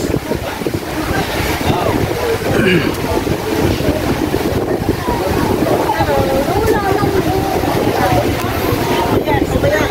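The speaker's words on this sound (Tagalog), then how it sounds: "Lakas ng alon, no?" Strong wind rushes across the microphone over the steady roar of strong ocean waves at Boracay Island, Philippines, a continuous loud blustery noise, with voices faintly heard in the background.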